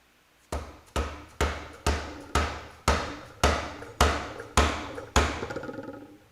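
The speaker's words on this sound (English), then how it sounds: "Let's get my screwdriver that I treat more like a chisel and just start beating the shit out of it." An old screwdriver used as a chisel is struck about ten times by a hammer, each ringing, sharp metallic blow spaced evenly about half a second apart, close and loud in a garage.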